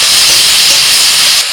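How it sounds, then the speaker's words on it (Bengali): Chopped onion added to frying potatoes in a pan, giving a loud, steady sizzling hiss throughout with no voices. "2 থেকে 3 মিনিট আলুটা ভেজে নিয়ে দিয়ে দিচ্ছি পেঁয়াজ কুচি।"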